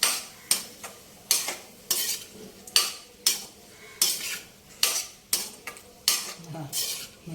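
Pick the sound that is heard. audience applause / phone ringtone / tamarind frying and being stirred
tamarind frying and being stirred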